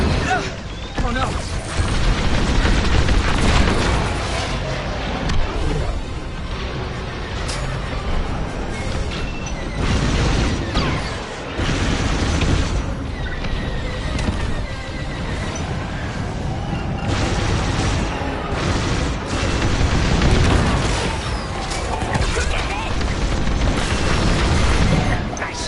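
Repeated heavy booms and crashing blasts mark enemy bombers being destroyed in a Star Wars Squadrons space dogfight, loud and dense over a rumbling backdrop, with voices talking throughout.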